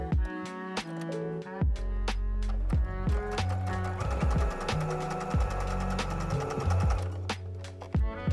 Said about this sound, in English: Continue sewing all along the bottom and repeat that point technique on the other side.